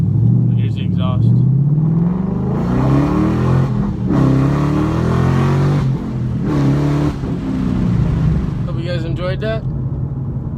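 A Ford Mustang GT 5.0 with an MBRP exhaust and MSD two-step revs loudly in repeated surges, its deep rumble rising and falling over about ten seconds, with a few brief voices and whistling sounds near the end.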